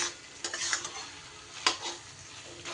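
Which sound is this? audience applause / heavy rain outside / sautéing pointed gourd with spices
sautéing pointed gourd with spices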